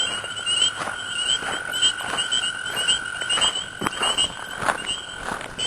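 A chorus of spring peeper frogs calls from a swamp, with high, piercing peeps repeating densely and steadily from many animals at moderate distance, and no voices.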